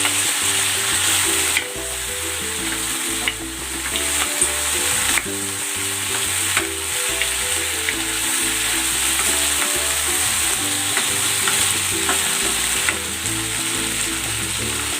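Marinated chicken for adobo sizzling loudly in a pan while being stirred, a strong continuous fry with repeated scraping strokes of the utensil every second or two, close and without talking.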